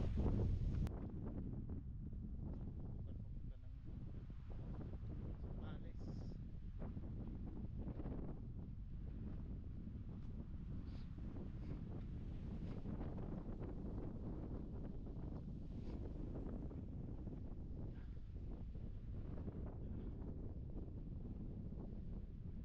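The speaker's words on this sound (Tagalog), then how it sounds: "malakas ang hangin kaya hindi tayo pwedeng magpalipad ng drone." Strong wind buffets the microphone at a high view deck, a steady loud roar and rumble that persists unbroken throughout, with no talk.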